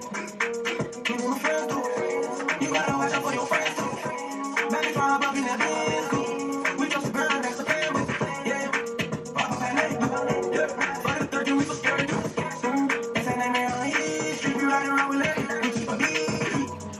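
A song plays through a Google smart speaker, heard as dense, loud music with steady beats and full instrumentation that runs continuously, with no talk over it.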